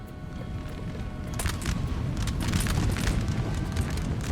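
Cannon fire on a Napoleon: Total War battlefield: dense, rumbling booms and broadband blasts build from about a second and a half in, rolling on continuously and loud with no talk over them.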